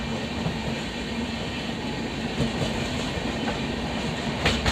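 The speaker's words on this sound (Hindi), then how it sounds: "हज़रत निज़ामुद्दीन यूपी संपर्क क्रांति क्रॉसिंग हो रही है एपी संपर्क क्रांति से।" The UP Sampark Kranti Express passes near Hazrat Nizamuddin, a close steady rumble of rolling wagons with rhythmic clickety-clack of wheels over rail joints and no voices.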